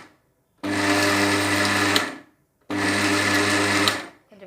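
A mixer grinder grinds sesame seeds into powder in two loud, steady whirring bursts of about one and a half seconds each, separated by a short pause.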